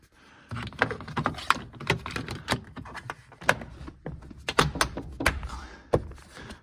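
Trim panel clips on a 2011–2017 Honda Odyssey sliding door popping into place, a series of close plastic snaps and thunks with handling rustle between them, no voices.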